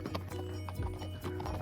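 Horse hooves clip-clop at a walking pace on a trail ride at Lincoln Mountain Open Space, a steady rhythm close by with a low continuous hum underneath.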